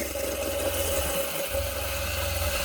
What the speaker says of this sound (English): Hear the pump cycling.